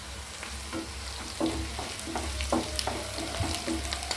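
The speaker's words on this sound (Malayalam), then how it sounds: "വെളുത്തുള്ളി, ഇഞ്ചി, പച്ചമുളക്, വേപ്പില എല്ലാം നന്നായി വറുത്ത് കോരി" Garlic, ginger, green chillies and curry leaves fry in oil with a steady sizzle, broken by repeated scraping strokes of stirring heard close up and without any talking.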